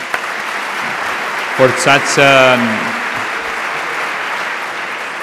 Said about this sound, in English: Let's applaud the speaker again